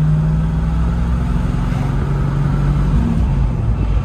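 A 1974 Pontiac Firebird Formula Ram Air cruising in fourth gear, its engine a steady low drone with road rumble throughout, heard from inside the car at a constant, loud level with no talk.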